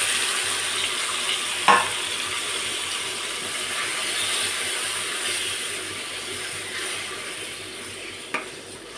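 Turmeric is stirred into hot oil in a frying pan for a tomato and red chili curry, giving a steady low sizzle with two brief scrapes of the spoon.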